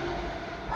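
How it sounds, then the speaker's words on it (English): A train passing close by, heard as a loud, steady broadband rumble that fills the whole short moment, with no voices over it. "Now there's a train."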